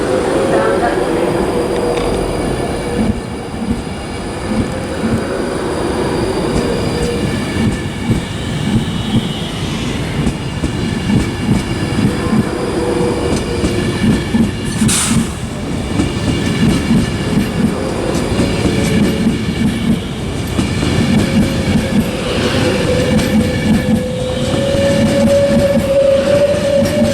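A Pendolino train, named Penny, roars through Birmingham International station on the West Coast Main Line, a loud, sustained rush of wheels and motors lasting close to half a minute with a sharp squeal midway.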